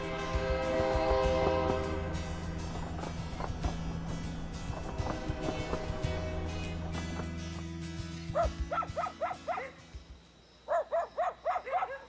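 The 5633 passenger train bound for Sichuan city sits at a dark early-morning station, giving low rumbling and long sustained horn-like tones, with a dog barking repeatedly and fairly close toward the end.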